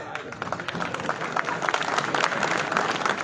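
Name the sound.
applause for poet invited on stage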